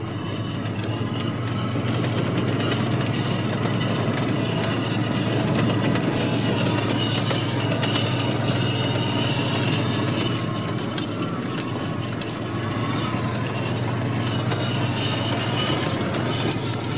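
A Mule utility vehicle drives across a soft snowy field in four-wheel drive, its engine droning steadily and close for the whole stretch, with no talking.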